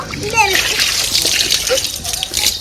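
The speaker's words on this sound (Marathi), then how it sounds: "गाडीवर पाणी मार आणि गाडी पोच चांगली" Water splashes and sloshes against a car as it is washed, a close, busy spray with a voice chattering over it.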